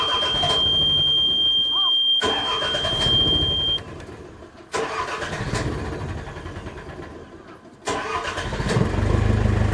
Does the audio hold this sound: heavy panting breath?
no